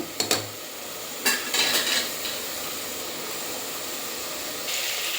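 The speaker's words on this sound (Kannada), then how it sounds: "ಎಣ್ಣೆ ಬಿಡೋ ತನಕ ಹೆಚ್ಚು ಫ್ರೈ ಮಾಡ್ಕೋಬೇಕು" Masala frying in oil in a pan as a spatula stirs it: a steady sizzling hiss punctuated by a few sharp metal scrapes and clinks early on, close and without talk.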